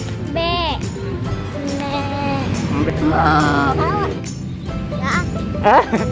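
A voice imitates a goat's bleat, repeating a wavering 'beh' several times, with other voices chattering around it.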